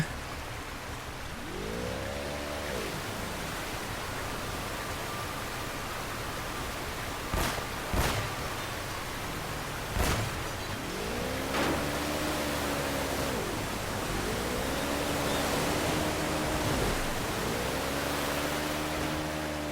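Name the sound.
forceful rushing water in video game Uncharted: Drake's Fortune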